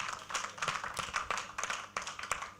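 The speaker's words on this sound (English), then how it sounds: "So let's give ourselves a big round of applause" Members at an NIPR general meeting applaud themselves, scattered hands clapping at a low, somewhat distant level with uneven rhythm and no clear talk over it.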